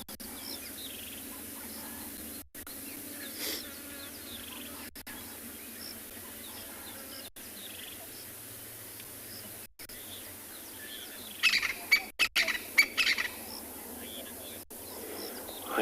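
Birds chirp and call faintly across a quiet evening on a sunset safari drive, sparse scattered notes over soft insect hum, with a brief cluster of sharper calls near the end.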